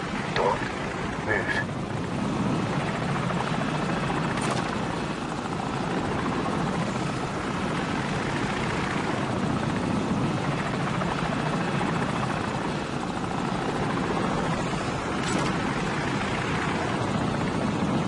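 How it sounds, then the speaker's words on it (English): An enemy helicopter in the Call of Duty 4: Modern Warfare game thunders steadily overhead, a loud, continuous rotor roar that fills the scene with little change. "Enemy helicopter, get down."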